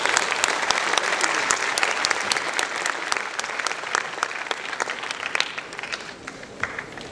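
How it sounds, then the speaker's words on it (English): An audience in a hall applauds at a Nagpur event, a dense, sustained burst of many hands clapping that stays fairly even and slowly tapers toward the end. "I think they need one round of applause for their hard work."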